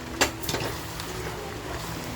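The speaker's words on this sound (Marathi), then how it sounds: "गरम केलेलं पाणी टाकलंय मी याच्यामध्ये." Heated water pours into a pressure cooker holding mutton masala. A sharp knock is followed by a soft, steady rushing wash of water, fairly close.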